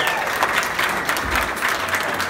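A concert audience claps for a performer at a tribute band show in Wolverhampton, a dense, loud burst of applause that carries through the whole stretch, with a voice or two mixed in.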